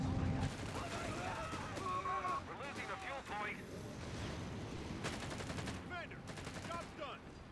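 Gunfire from bolt-action rifles and other weapons in a Company of Heroes 3 battle, with scattered shots and bursts under a busy battlefield mix and a commentator talking over it.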